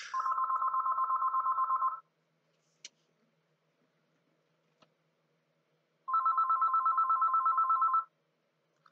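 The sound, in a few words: phone ringing with an incoming call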